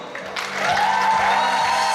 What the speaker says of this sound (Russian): Сарюна Ренчинова, друзья, аплодисменты громкие.